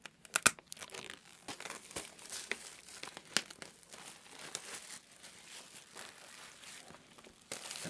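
Matte paper insert from a Syd Barrett vinyl record being handled close up, with sharp crinkles and rustles in irregular bursts, fairly quiet and with no talk.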